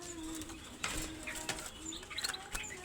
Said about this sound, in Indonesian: di sini ada kenari loper warna cerah, ngeriwi kasar